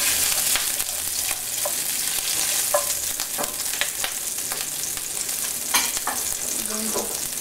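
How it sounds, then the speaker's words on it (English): Cumin seeds and shredded green chilies sizzle in a heated non-stick pan, a loud steady frying hiss broken by crackles and spoon stirring, close up with no speech. "So in a non-stick pan, I've heated a teaspoon of cumin seeds. I'm going to add some shredded green chilies."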